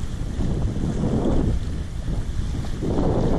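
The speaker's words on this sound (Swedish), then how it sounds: "Det är lite blåsigt här just nu." Strong wind buffeting the microphone at Bann Am Por beach near Pattaya, a constant low rumbling roar that swells and eases in gusts, with faint surf beneath and no talk.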